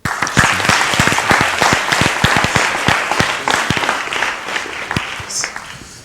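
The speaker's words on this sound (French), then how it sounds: "Je voudrais qu'on vous applaudisse très fort." A studio audience applauds guest Ben Ali Ouedraogo on a French talk show, a loud, dense round of clapping with sharp individual claps standing out, sustained for several seconds and easing slightly toward the end.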